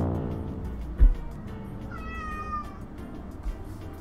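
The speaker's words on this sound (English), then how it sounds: "You got my cat stressing out for me, bro." A pet cat lets out a single rising-and-falling meow, clear and fairly close, over a low background hum with a couple of soft thumps.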